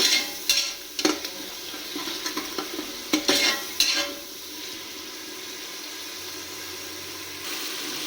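Ginger-garlic masala paste being stirred in a hot pan for a village festival meal, with scattered spoon scrapes and clinks over a soft sizzle, loud at first and then settling into a quiet, steady fry.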